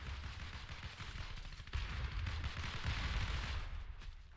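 Rapid in-game gunfire crackles continuously through a shooter video game firefight, dense bursts of shots layered over a busy, rumbling background with no clear pauses.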